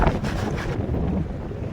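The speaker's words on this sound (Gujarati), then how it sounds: "અટાણે દિવસના પવન ફૂલ છે ને મોજો પણ ફૂલ છે" Strong wind roars and waves wash around a fishing boat at sea, a steady loud rush of gusting air and water lasting the whole short moment.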